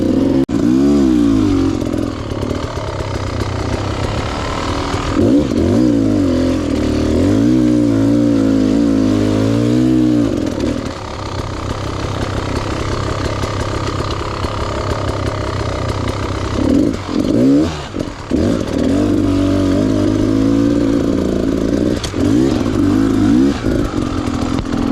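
A dirt bike engine drones loudly and continuously, rising and falling in pitch as the throttle is worked and the clutch slipped during an off-road training ride, close by with no talk.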